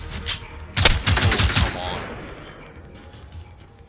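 Rapid automatic gunfire rings out in the Generation Zero video game: a short shot, then a dense close burst of about a second, fading into echoing quieter noise.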